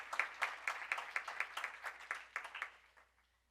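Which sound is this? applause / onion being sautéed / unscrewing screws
applause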